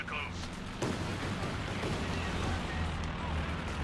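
Tank gunfire and explosions in the World War II strategy game Company of Heroes 2, with sharp booming shots and dense rumbling blasts heard under a commentator's voice.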